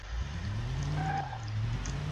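A simulated 1996 Buick Roadmaster wagon with towing package pulls a big trailer, its engine a steady low drone with a faint tire squeal, continuous and fairly close.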